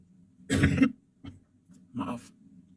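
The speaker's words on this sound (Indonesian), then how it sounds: "Maaf, batuk." Two separate coughs from one nearby person in a quiet room, a fuller burst followed after a pause by a shorter second one, with a soft faint hiss in the background.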